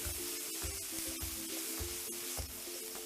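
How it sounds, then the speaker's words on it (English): Crispy corn sizzles in a pan with ketchup and chili sauce and is stirred, giving a steady close hiss broken by regular scraping strokes. "give it a stir, we will fry it for a few seconds to mix everything"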